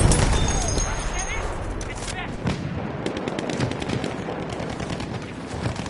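Rapid machine gun fire rattles through a Battlefield 1 match in bursts of dense repeated shots, close and loud, with distant battle noise and voices talking over it.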